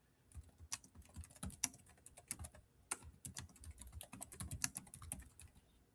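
Rapid, uneven typing on a computer keyboard while entering a design description in Canva, with clustered clicky keystrokes close by and brief pauses between bursts, and no voices.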